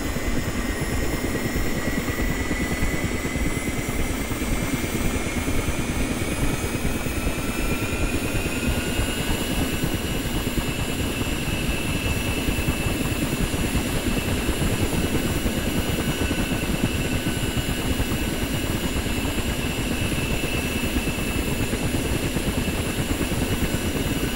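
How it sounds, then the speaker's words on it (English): A Ka-50 helicopter's rotor and engine run steadily in the flight simulator DCS, a dense, loud, unbroken roar with a whining turbine tone that climbs slightly partway through. "you can see your rotor blades are going"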